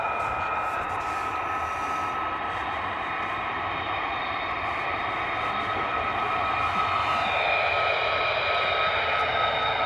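US Air Force military jets taxi at RAF Lakenheath with a steady, continuous engine roar and whine at moderate distance, holding an even level throughout with no talk.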